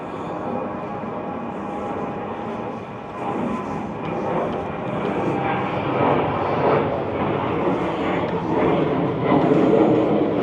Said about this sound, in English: like on the flight path of the airport